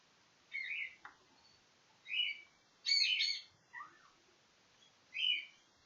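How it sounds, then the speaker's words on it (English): Pet birds chirp in five or six short, separate bright bursts with quiet gaps between, fairly soft and close, with no talking. "Happy birds!"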